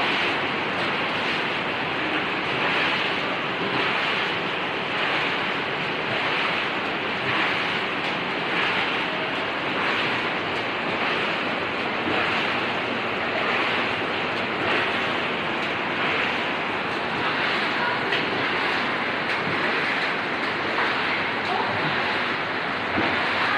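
Floodwater rushes near a house in Maria Cristina, a steady, loud, broadband roar of churning water that runs unbroken and close for the whole stretch, with wind buffeting the microphone and no talking.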